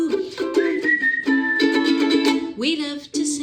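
Clear melodic whistling carries a cheerful tune in a children's music room song, sustained notes sliding between pitches over about three seconds, fairly close and steady with a brief dip near the end.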